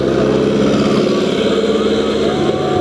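A tractor engine roaring hard at a village bull and tractor competition, a loud continuous rumbling drone with a crowd and an announcer's voice mixed in.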